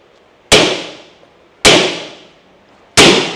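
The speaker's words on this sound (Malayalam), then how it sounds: "ടഫൻ ഗ്ലാസ് ആണ് ഓക്കെ അപ്പോൾ അത് പൊട്ടിക്കഴിഞ്ഞ ഏത് രൂപത്തിലാണെന്നുള്ളത് നമുക്ക് നോക്കി നോക്കാം" A pane of toughened window glass is struck three times, each a sharp, loud crack with a ringing tail that fades out, the blows about a second apart.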